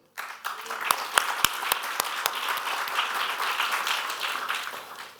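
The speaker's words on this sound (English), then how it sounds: "A huge round of applause to him." Audience applause at a real-estate industry evening event, starting abruptly with a few sharp, distinct claps and swelling into a dense, steady round of clapping that continues to the end.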